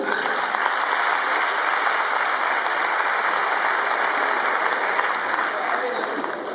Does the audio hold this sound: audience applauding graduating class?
yes